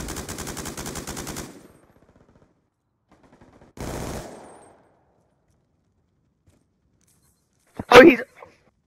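A light machine gun in Call of Duty: Black Ops 2 fires a rapid, even burst at the start. A shorter, rougher burst follows, then a single loud blast near the end, with stretches of silence between.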